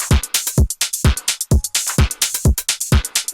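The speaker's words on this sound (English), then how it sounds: "TR 808 drum kit samples mashed together into this loop" Heavily compressed loop of Roland TR-808 drum kit samples, punchy booming kicks at a steady pulse with bright hi-hats and snappy hits between, loud and pumping with no voices.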